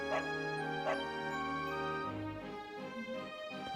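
A dog in Dragon Quest XI gives a couple of short yelping barks, then whimpers and whines, with steady game music underneath.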